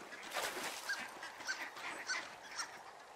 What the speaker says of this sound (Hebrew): אני שומעת ברווזים